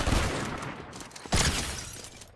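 Sniper rifle shots in Fortnite, two sharp loud cracks about a second apart over dense, noisy in-game background, no speech.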